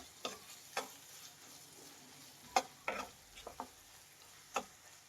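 Mutton fry being stirred in a pan with chili powder: soft intermittent scraping strokes and light sizzling, quiet and close, with scattered taps of the utensil against the pan.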